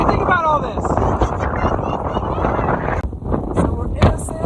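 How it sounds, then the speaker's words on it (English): Strong wind in a sandstorm roars and buffets the microphone in constant gusts, with faint voices partly buried under it. "Oh, it's so windy."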